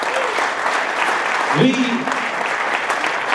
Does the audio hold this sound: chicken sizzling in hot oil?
no